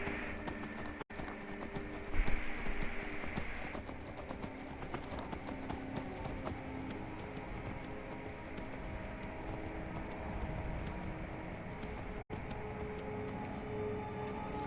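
Horse hooves clip-clop steadily in Skyrim as the horse travels a mountain path, a continuous, fairly quiet rhythm of footfalls under game ambience.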